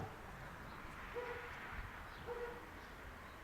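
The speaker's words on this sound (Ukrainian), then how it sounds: "Це голубочка, до речі." A pigeon coos softly twice at a distance, with short, low calls spaced about a second apart over quiet outdoor background noise.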